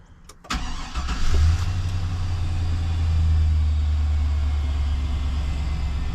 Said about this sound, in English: start the truck or the vehicle, whatever you're looking at